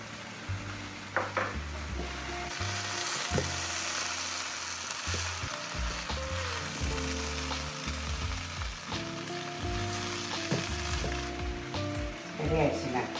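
Vermicelli and paneer sizzle and fry in a pan on low heat, a steady crackling hiss broken by repeated scraping and knocking as the mix is stirred, with someone talking nearby.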